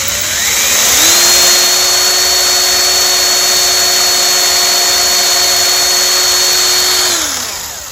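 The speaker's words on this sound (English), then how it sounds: "Holding and drilling definitely takes a little practice." A power drill bores holes through a Kawasaki 750 SX/SXI jet ski hull during a hull extension install. The high, steady whine spins up after a second, runs loud and close for about six seconds, then winds down.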